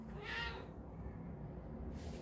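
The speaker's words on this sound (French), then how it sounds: "Le chaton." A kitten gives a single short, faint meow indoors against low background hum.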